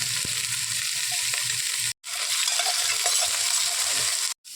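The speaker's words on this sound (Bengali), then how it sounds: "আলু কপি একসঙ্গে ভেজে নেবো, আলুটাও দিয়ে দিচ্ছি।" Potatoes and cauliflower fry together in a pan with a steady, close, crackling sizzle that cuts out briefly twice, with faint stirring clinks underneath.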